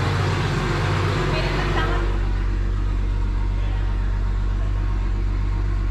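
A fully built Nissan R33's engine idles steadily and close by, with a deep, constant rumble and a brief busier, rougher stretch in the first two seconds before settling into an even drone; no one talks over it.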